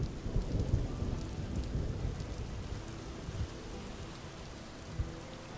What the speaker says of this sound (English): Yeah, we're hitting the tail end of this storm.